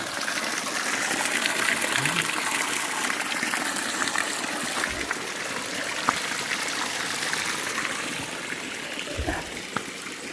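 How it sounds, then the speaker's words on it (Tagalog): A stream flows inside a cave, a steady broadband rush and gush of water filling the whole stretch with a few faint low thumps, no talking heard. "Ito yung sapa namin."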